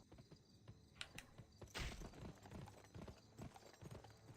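Horse hooves clip-clop along a village road in the western shooter game Gun, a rhythmic series of close, distinct hoofbeats with the odd snort, quiet overall and without speech.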